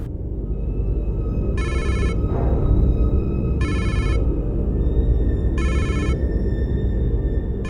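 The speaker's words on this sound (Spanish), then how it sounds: "Entonces siente que el celular suena" A mobile phone rings in three evenly spaced electronic bursts, each lasting about half a second, clear and steady over a constant low background hum.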